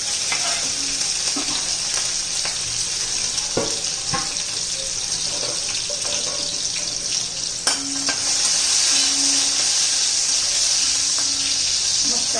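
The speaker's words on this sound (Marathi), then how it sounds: "आता लसूण आणि मिरची घालून घेऊया तेलात" Garlic and green chillies hit hot oil in a pan while cooking drumstick-leaf vegetable, giving a steady close sizzle and hiss throughout with occasional clinks of a spoon against the pan.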